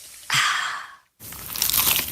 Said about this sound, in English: Is that the sound of an ooey gooey cheesy crunchy slice of P-I-Z-Z-A?